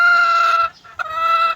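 A Talisay-type rooster gives two loud, drawn-out calls close by, separated by a brief pause.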